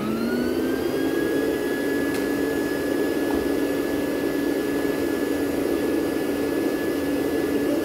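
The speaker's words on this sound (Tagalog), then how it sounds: "Start na tayo mag-vacuum ng carpet." A Rainbow vacuum cleaner runs on carpet with a loud, steady whine and a rising motor pitch at startup, then holds one constant roar throughout.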